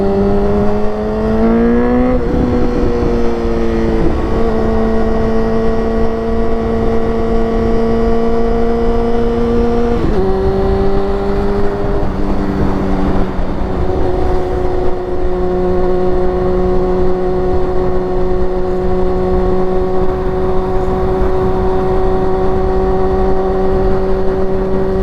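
A Honda CBR sport bike engine revs and pulls through gears while riding, a loud, close, continuous drone that rises in pitch, drops at each shift, then holds a steady tone.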